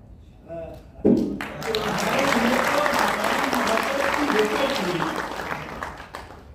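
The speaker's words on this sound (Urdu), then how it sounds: "دیکھیں آپ تالیاں مارتے رہیں گے" An orientation event audience claps after a short spoken line, a sudden burst of dense, steady applause that holds for several seconds before tapering off.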